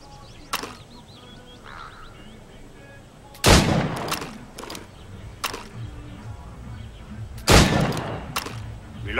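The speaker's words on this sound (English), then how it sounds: "Go on. Shoot these targets." Gunshots at shooting targets in Assassin's Creed Rogue: about six loud, sharp cracks spread unevenly, some single and some in quick pairs, each ringing briefly against a quiet ambient background.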